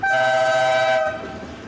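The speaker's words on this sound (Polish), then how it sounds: "I to jest właśnie muzyka górki rozrządowej" A loud, sustained locomotive horn blast at a rail hump yard in Nowa Huta lasts about a second, then gives way to a lower rumble of the train moving.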